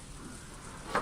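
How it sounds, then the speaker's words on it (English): Soft, steady rain hiss in a video game, fairly quiet, with a brief louder splash of patter right at the end. "that was the sound of the rain"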